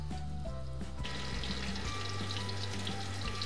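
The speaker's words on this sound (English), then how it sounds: "You will hear that sizzling sound and that delicious smell coming through your kitchen" Cheddar and chilli corn fritters fry in oil over medium-low heat, a dense steady sizzling hiss that swells after about a second and continues evenly over a faint background drone.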